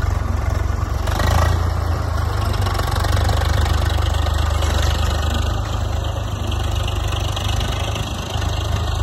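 Tractor engine working steadily while ploughing a stony farm field, a continuous loud low drone with a constant idling-like throb and no breaks.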